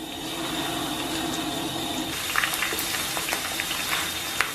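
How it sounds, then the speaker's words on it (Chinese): Diced onions frying in oil in a pot, a steady close bubbling sizzle with a few sharper crackles and pops toward the end. "咱们把洋葱冷油下锅"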